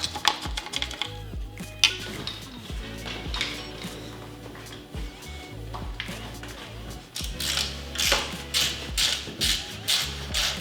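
Tools click and tap as a bicycle is taken apart, with irregular close metallic clinks, knocks and rattles in quick bursts and no talking.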